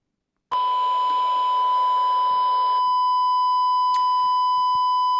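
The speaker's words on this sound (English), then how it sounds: "as I'm putting 1 kilohertz tone through my Midland 42" A loud, steady 1 kHz electronic test tone through a Midland 42 CB radio starts abruptly, holds for a couple of seconds, then cuts off, followed by a brief click and quiet.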